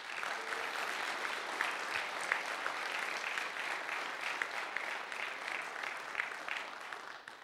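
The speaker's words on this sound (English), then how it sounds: "round of applause to you all for taking the plunge" Sustained applause from an audience at a collegiate cyber defense competition awards ceremony, dense and steady throughout with no break, fairly distant, with no speech over it.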